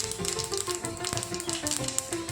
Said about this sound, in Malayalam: അതിന് വേണ്ടിയിട്ട് കുറച്ച് കടുക് പൊട്ടിക്കുക